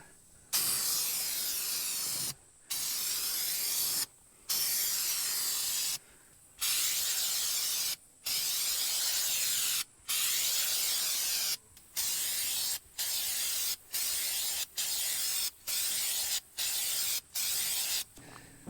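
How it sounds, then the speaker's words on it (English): Aerosol spray cans coat a surface in about a dozen close, loud hissing bursts. Each burst lasts a second or more and is separated by short silent pauses, with no voices. "I used 2 cans and I basically got it coated and was able to go back over it with a second coat."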